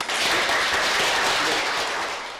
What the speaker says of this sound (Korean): 오늘도 화이팅하는 의미에서 박수 한번 치면서 시작할까요?